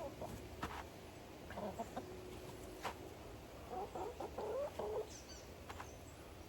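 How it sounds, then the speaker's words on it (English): Chickens clucking close by around a trailer, soft bursts of clucks and short calls scattered over a quiet outdoor background, with bunched calls toward the end. "cannot stop these chickens from trying to jump in this trailer"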